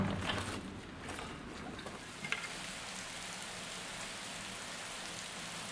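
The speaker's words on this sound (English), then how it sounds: "Yeah, thunder, lightning and rain." Steady rain falls during an August thunderstorm, a dense, even hiss holding at a constant level throughout with no voices.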